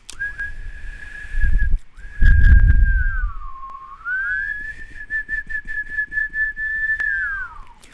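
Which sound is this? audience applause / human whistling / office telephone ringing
human whistling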